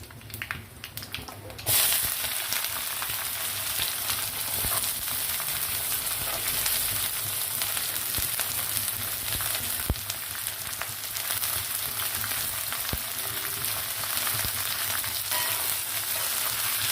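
Onion, green chili and curry leaves fry in hot oil in a pan with urad dal and cumin, giving a steady, close, dense sizzle that continues evenly throughout after a brief louder burst at the start.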